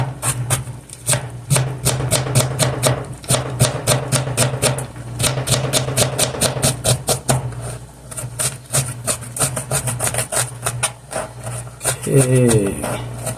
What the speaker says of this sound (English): I'm going to chop the onion.